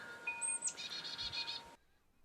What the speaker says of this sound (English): our state bird, the northern cardinal